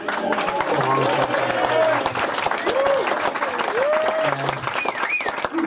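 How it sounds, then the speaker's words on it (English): Applause from a birthday party crowd celebrating Frank's 70th, dense clapping filling the whole stretch with cheering voices and whoops rising over it. "give Frank a big round of applause"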